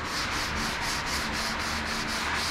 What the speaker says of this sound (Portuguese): Aí tu vai lixando de fora a fora aí.